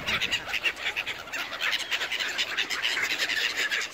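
A flock of birds squawks loudly while being fed, a dense, continuous chatter of overlapping harsh calls close by.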